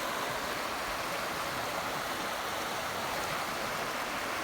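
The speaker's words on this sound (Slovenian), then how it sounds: "Tako, tukaj je struga reke Dravinje odložena skupaj v dolžini kakšnih 200 metrov za Meljevcem." The Dravinja river in Slovenia flows steadily over a bed lined with siltstone, a continuous broadband rush of water with no voices.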